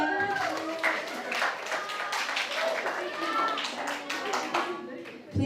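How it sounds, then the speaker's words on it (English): Audience at an international public speaking workshop clapping as a speaker is welcomed on stage, scattered claps running under a person talking throughout. "Give her a round of applause,"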